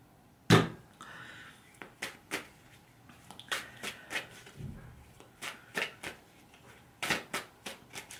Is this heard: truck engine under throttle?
no